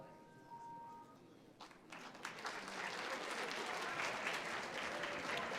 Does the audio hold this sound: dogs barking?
no